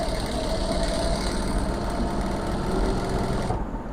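A sewing machine runs steadily, stitching a fabric strip along the very edge of the cloth, with a continuous close whir that stops abruptly near the end.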